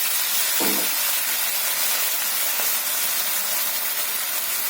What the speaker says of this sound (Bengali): বন্ধুরা আমি কেটে ধুয়ে রাখা লাউটা আমি দিয়ে দিচ্ছি বন্ধুরা।